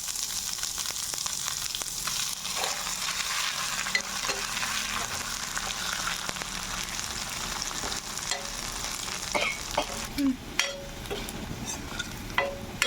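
Chopped ginger sizzles in hot oil for khichuri, a constant crackling fry broken by scrapes and clinks of a stirring spoon against the pan, close and without talk.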